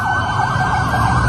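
A wailing emergency siren on a special official vehicle of Indonesia's Attorney General's Office sounds loud and close, holding a steady warbling tone throughout with road noise beneath.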